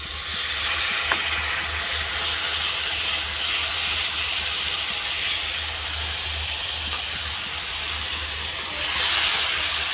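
Soaked spice paste sizzles steadily in hot oil over fried cumin, a loud, even hiss with a faint low hum beneath and no talk.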